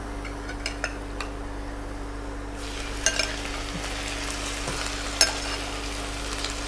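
Chicken dropped into a pan with browned onions, a soft sizzle swelling into a steady hiss with a few spoon clinks, over a constant low electrical hum.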